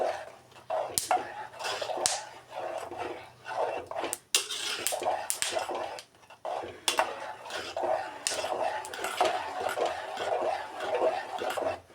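Peanuts frying in ghee are stirred in a pan, with repeated metallic scrapes and clinks of the spoon against the pan over a soft sizzle, steady and close.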